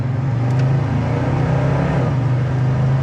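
A 1970 Chevrolet Monte Carlo accelerating in first gear, heard from inside the car as a loud, steady low engine drone with a slight rise in pitch, continuous and without talking.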